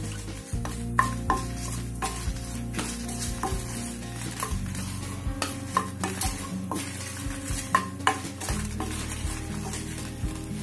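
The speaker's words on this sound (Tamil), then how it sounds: "நம்ம கேரட் சட்னிக்கு காஞ்ச மிளகாய் போட்டு வதக்கிக்குவோம்" Dried red chillies frying in a pan for carrot chutney, a soft continuous sizzle broken by repeated scraping and tapping of a ladle against the metal pan.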